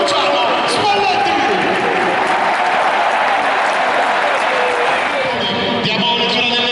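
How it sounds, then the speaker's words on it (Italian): A packed football stadium crowd roars and applauds at a Napoli home match against Empoli at the Maradona, a loud, dense, continuous wash of cheering and clapping with many voices blended throughout. "L'entusiasmo, l'urlo e l'applauso della Maradona è dedicato a lui"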